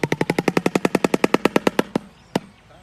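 Shoebill stork clattering its bill: a fast, even burst of sharp wooden knocks, about a dozen and a half in quick succession, then a pause and one last knock, loud and close with nothing else heard.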